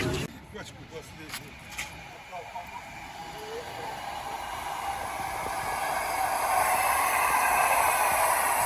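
An old war train rumbles closer in Tula, Russia, its noise swelling steadily from low to loud over several seconds, with a few sharp clicks early on.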